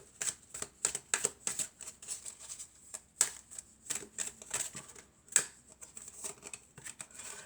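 Tarot cards drawn and handled: a run of crisp, close flicks and slaps of card stock, irregular and quick, with brief snaps standing out, and no voice over them.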